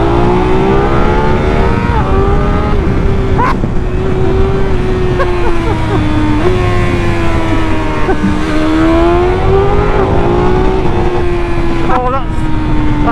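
A BMW M 1000 R motorcycle engine runs loud and close, its pitch climbing and dropping with brief dips at gear shifts, and wind rush underneath throughout.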